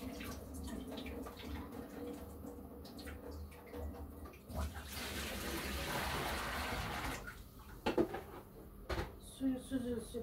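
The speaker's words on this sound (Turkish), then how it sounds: "Suyu süzülsün anında." Water drains away from blanched, cold-shocked cabbage leaves in a home kitchen, a soft rushing pour swelling in the middle amid faint clatter and background noise, with a few sharp knocks near the end.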